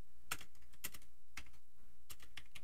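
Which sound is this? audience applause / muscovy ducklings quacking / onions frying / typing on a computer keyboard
typing on a computer keyboard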